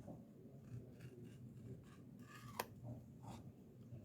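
Scissors trim fabric during hand sewing, a few quiet soft snips close by with one sharper click, over a low hum of room noise.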